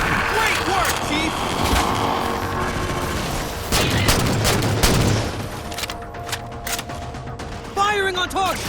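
Sustained gunfire in the video game Halo 4, rattling bursts and thumping impacts amid battle noise and music, loud and continuous, with in-game voices calling out over it.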